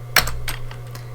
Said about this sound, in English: I'm going to type in TPL